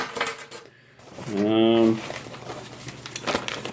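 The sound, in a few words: keys jingling as they are put into a bag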